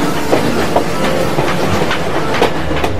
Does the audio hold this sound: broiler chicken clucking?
no